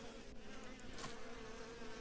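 Honey bees of a colony that has quietly replaced its queen buzz in a dense, steady hum, close and continuous throughout with no pauses and no voices.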